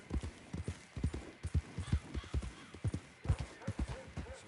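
Horse hooves clip-clop at a steady walking rhythm in the Red Dead Redemption 2 video game, close and fairly quiet, with a brief rider's voice faintly mixed in.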